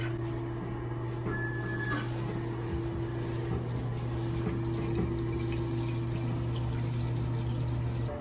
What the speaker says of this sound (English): That'll allow this tank to start filling.